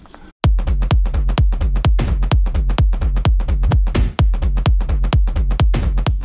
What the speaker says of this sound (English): This is basically the groove through the whole track. Basically just a kick drum and that grooving tom pattern